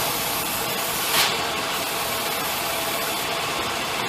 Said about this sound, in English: It's really running it doesn't idle good at all. But yeah, I can squirt both sides now.